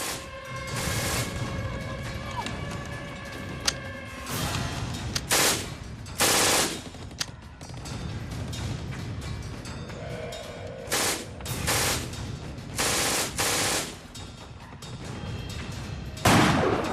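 Juno Beach battle scene with rattling machine gun bursts and heavy artillery fire, loud and continuous, the rapid chatter broken by several sharp booming blasts.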